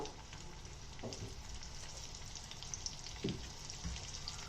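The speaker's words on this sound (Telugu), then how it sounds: "మనం ముందుగా కట్ చేసి పెట్టుకున్న ఉల్లిపాయల్ని దీంట్లో వేపుకుందామండి." Chopped onions with a pinch of salt fry in a hot pan, giving a steady close sizzle with a few soft stirring clicks and taps; no voices.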